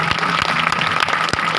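An audience of government workers claps loudly at a rally to welcome a speaker, a dense, steady burst of applause close by with no voices over it.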